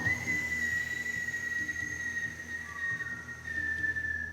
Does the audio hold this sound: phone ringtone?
no